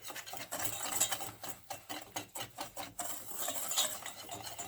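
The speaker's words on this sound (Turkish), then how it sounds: "Malzemelerimi güzelce bütünleşene kadar karıştırıyorum" A spoon stirs cake batter mixed with a glass of sugar, making rhythmic scraping and swishing strokes against the bowl, close and fairly quiet with no talking.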